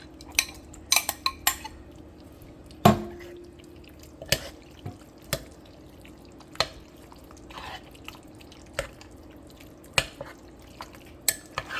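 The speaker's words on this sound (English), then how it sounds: "now I'm going to go ahead and add that shrimp" Shrimp are added to a pot of gumbo greens in a crock pot, with scattered wet drips, clinks of a utensil against the pot and a sharper knock, close and quiet without talking.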